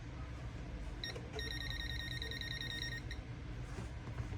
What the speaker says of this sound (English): The instrument is close to the electric field, and the beep will change according to the strength of the electric field.